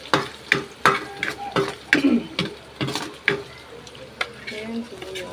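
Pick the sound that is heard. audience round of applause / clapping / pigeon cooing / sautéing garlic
sautéing garlic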